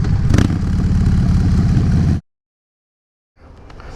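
A Harley-Davidson motorcycle with a newly installed exhaust idles in a parking lot with a loud, lumpy low rumble, cutting to silence before a fainter engine sound returns.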